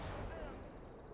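Explosion in the WW2 real-time strategy game Gates of Hell, a dense, sustained rumbling blast with crackling debris and distant gunfire, loud and continuous throughout.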